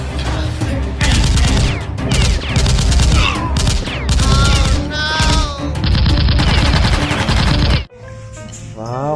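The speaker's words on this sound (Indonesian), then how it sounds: "ternyata di sini ada pistol." A toy pistol plays its electronic gunfire sound effect: loud, rapid bursts of buzzy, warbling shots repeat in quick clusters for several seconds, then stop abruptly near the end.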